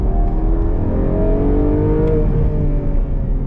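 Porsche Cayman GTS 4.0 with its 4-litre flat-six engine revving hard on the road, a loud, steady close-up drone with rising harmonic tones, no voices over it.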